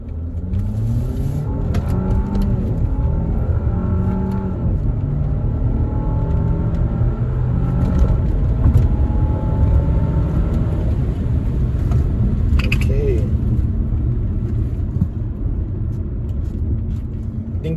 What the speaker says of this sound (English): So now I want you guys to hear the shifts from 1st to maybe 5th gear.